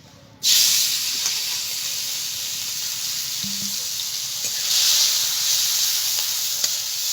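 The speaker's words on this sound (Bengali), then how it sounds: "তেল গরম হয়ে গেছে, এবার চিংড়ি মাছগুলোকে আমি হালকা করে একটু ভেজে নেব।" Turmeric-coated prawns dropped into hot oil burst into a sudden loud hiss that settles into a steady close sizzle, swelling again briefly toward the end.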